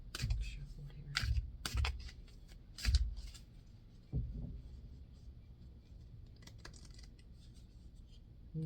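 Tarot cards are shuffled with soft, irregular riffles and taps, close by and fairly quiet, under faint background noise.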